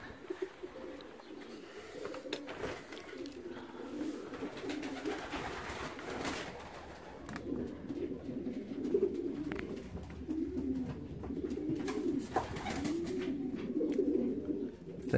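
Racing pigeons just home at the loft from a 309 km race from Olsztyn coo in repeated low, throaty phrases, close by, with soft rustles and clicks between calls and no talking.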